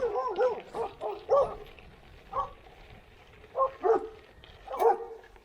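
Dogs bark repeatedly at gravel cyclists arriving in a village in the Alpilles, a run of close, sharp barks and yips in irregular bursts with short gaps between them.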